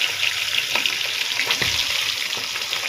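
Eggs fry in a pan, giving a steady bright sizzle throughout, with a few soft clinks and stirring sounds close by and no talk.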